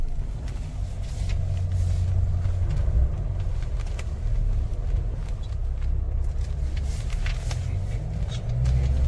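A fully loaded vehicle with a Mercedes engine climbs a mountain road near Hatu Peak, Narkanda, Himachal, giving a steady low engine rumble with road noise that stays constant throughout.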